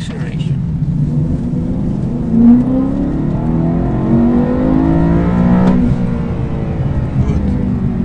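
A race car braking into a corner and then accelerating out, its engine note dropping and then climbing steadily in pitch, loud and continuous, with an instructor talking over it.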